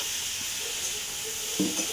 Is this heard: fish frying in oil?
yes